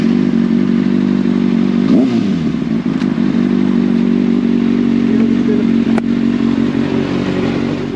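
Kawasaki Ninja ZX6R sport motorcycle engine while riding, a loud steady droning hum that holds throughout, with a brief rising rev or shift and a couple of faint clicks, no voices.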